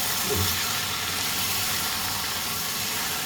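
Chicken pieces, a kilo and a half, sautéing in a pan for white chicken curry, giving a steady soft sizzle and hiss throughout with a faint brief clatter near the start.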